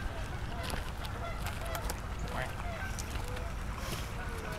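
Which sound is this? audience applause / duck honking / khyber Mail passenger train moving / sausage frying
duck honking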